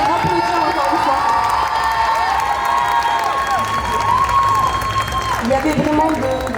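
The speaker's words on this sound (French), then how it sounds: "Je pense qu'on peut les applaudir encore une fois" Audience at a cosplay contest finale at a Japan festival applauding and cheering, a steady crowd wash with whoops and children's shouts and someone speaking over a microphone.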